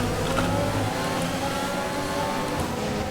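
Formula 1 car engine in the F1 2020 racing game, a steady loud high-pitched whine with harmonic tones shifting as revs change, continuous throughout with no talk.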